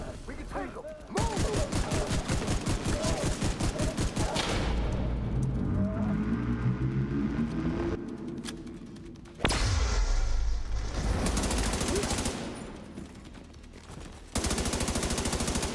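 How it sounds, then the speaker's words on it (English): Bursts of rapid automatic gunfire and single shots in a tactical shooter video game, loud and close, repeating in long volleys with short pauses and heavy thuds, while a player speaks over parts of the action. "Oh, that was some shooting."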